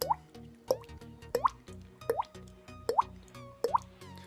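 Water drops imitated by a voice using mouth and tongue clicks, six evenly spaced plopping drips with a rising pitch, close and fairly quiet with no talking.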